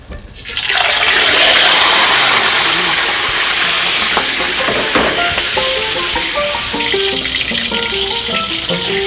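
Oil in a pan for frying fish bursts into a loud hiss and sizzle that stays strong, with crackling pops building up through the rest of the clip.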